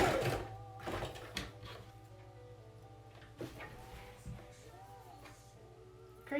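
A sewing machine back stitches the end of a fabric face mask, its motor humming steadily with a few short bursts of needle clatter at close range and no voices.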